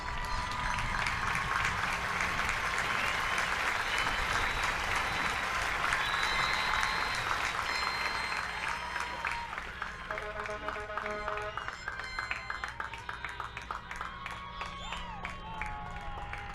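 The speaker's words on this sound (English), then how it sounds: "A round of applause for the Tappan Zee High School class of 2020." A crowd at a Tappan Zee High School graduation ceremony applauds the class of 2020 with dense, sustained clapping and some cheering. The applause thins toward the end into scattered claps.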